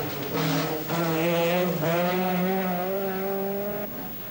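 Rally car at the 1984 Manx Rally, driven flat out: a loud, close engine howl climbing steadily in pitch through the gears, sustained for several seconds before easing off.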